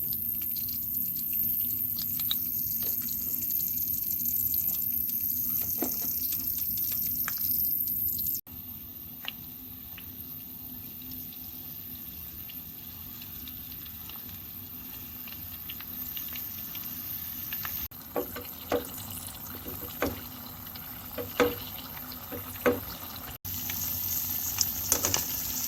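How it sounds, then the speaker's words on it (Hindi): Baklava pastries frying in hot ghee over a medium-low flame, giving a steady soft sizzle and patter with occasional small pops and drips, continuous and close throughout. "घी गरम हो चुका है, मीडियम टू लो फ्लेम पर फ्राई करेंगे"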